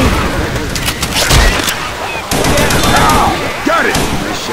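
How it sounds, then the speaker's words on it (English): Rapid gunfire in the zombie shooter game Left 4 Dead 2, loud bursts and scattered shots rattling across the scene with chaotic game effects and voices in the background. "Can you stop shooting me?"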